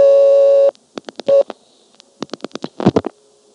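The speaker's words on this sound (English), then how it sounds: "This time I get into it by dialing 34." A 1975 independent step-by-step telephone exchange in Marshfield, Vermont, as 34 is dialed: a steady tone cuts off, then rapid clicking pulse trains and switching clatter follow, loud and close, with no talking.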